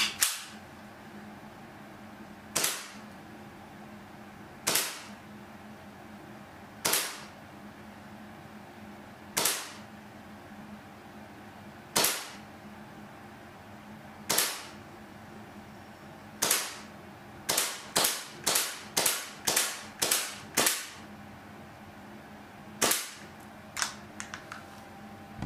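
ECCB Cybergun Desert Eagle gel blaster fired repeatedly, sharp snapping shots, single shots spaced out at first, then a rapid run of closely spaced shots near the end, loud and close with no talking.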